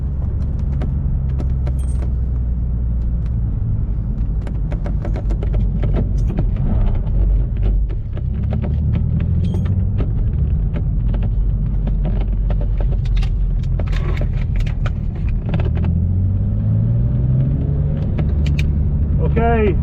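A turbocharged Nissan 350Z drifting produces a deep, loud engine rumble heard from close inside the car, with rattles and clanks from the cabin. Near the end the engine revs rise and fall in pitch.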